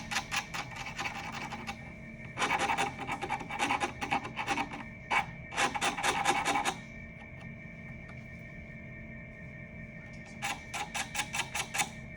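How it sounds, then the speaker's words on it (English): A half round file rasps along a sheet metal edge in bursts of rapid back-and-forth strokes, close and fairly quiet, over a steady background hum with pauses between sets of strokes. "you want to just file until you don't really feel your finger catching any of those burrs anymore"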